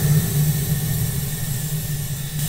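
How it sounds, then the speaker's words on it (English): Compressed air hisses out of a resin casting pressure pot through a muffler, a steady, moderate rushing noise with a low hum underneath, continuous from start to end. "Then we let the air out of the tank."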